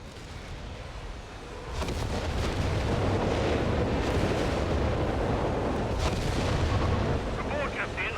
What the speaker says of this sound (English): 2 Nebels firing on the 17-pounder